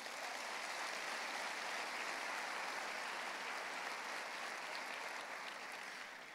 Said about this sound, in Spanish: Denle un aplauso al Señor bien fuerte.